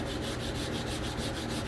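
Steady back-and-forth hand sanding of a Bowie knife's steel blade with sandpaper, producing close, rhythmic rasping strokes of about six per second that continue without a break.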